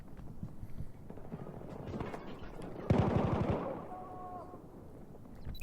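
Distant gunfire crackles in Battlefield 4 Domination on the map Dawnbreaker, swelling into a close, fast burst of automatic shots midway before fading back into scattered background firing.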